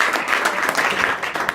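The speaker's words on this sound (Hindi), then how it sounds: "ताली बजाओ दोनों बच्चों के लिए।" Children in a school classroom clap together in a dense, steady burst of applause at close range, with no talk over it.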